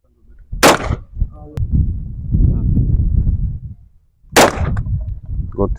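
Two sharp rifle shots crack out on a shooting range, one near the start and another about four seconds later, loud and close, with a voice talking in the gap between them.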